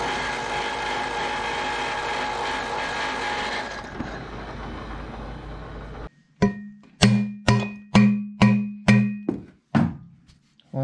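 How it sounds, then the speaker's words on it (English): A carbide deburring bit spinning in a drill press and opening up a V-band clamp for a go-kart exhaust: a steady whirring grind for several seconds, then a run of six sharp, regularly spaced metallic knocks. "I got this little carbide deburring tool I'm gonna throw in the drill press, see if I can open this V-band up appropriately to fit my exhaust."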